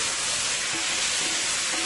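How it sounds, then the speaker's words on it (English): Potato frying in a pan for a Guyanese-style dish, a loud, steady broadband sizzle hissing continuously and close up, with no talk over it. "This is frying up nicely."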